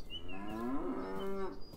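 In the video game Beyond Eyes, a cow gives a single long moo that swells and holds steady before tailing off, close and clear over a soft background bed.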